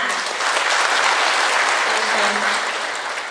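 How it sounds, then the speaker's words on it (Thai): A large audience at a Thai fruit-farming event applauds loudly to welcome a speaker, a dense, even wash of clapping that holds steady and then tapers slightly at the end. "ขอเสียงปรบมือต้อนรับท่านอีกสักครั้งหนึ่งดังๆค่ะ"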